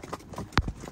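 Hooves of a mare clip-clop on a cavalcade ride in the rain, a couple of close, distinct strikes standing out over a soft background.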